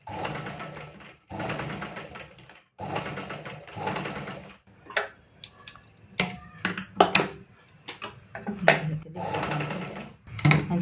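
A sewing machine stitching lace onto a blouse runs in several rapid bursts with pauses between, then gives way to scattered clicks and taps of handling near the end.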